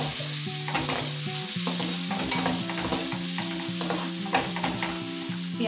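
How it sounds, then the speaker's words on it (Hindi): Chopped onions fry in hot oil for a restaurant-style mixed vegetable dish, giving a steady close sizzle with scraping and stirring strokes throughout. No one speaks. "इसके अंदर डालेंगे हम प्याज, जो हमने पहले से काट के रखी हुई थी, और इसे हम सुनहरा होने तक अच्छे से तल लेंगे।"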